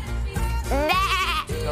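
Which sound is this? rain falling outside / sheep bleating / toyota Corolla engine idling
sheep bleating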